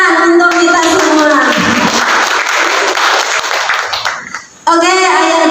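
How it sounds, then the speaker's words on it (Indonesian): An audience of parents at a parenting seminar applauds with dense, energetic clapping that carries on for several seconds, then dies away before a voice resumes. "tepuk tangan untuk kita semua."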